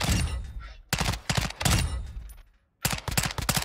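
Suppressed gunfire at a firing range in Call of Duty MWII, heard as rapid bursts of muffled automatic shots separated by brief pauses and one near-silent gap.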